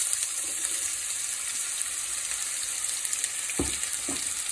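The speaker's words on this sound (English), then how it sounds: "And into that we'll add the chopped onions." Chopped onions hit a hot pan and fry with a steady broadband sizzle that runs throughout, close and fairly loud, with a couple of brief low knocks near the end as the pan is stirred.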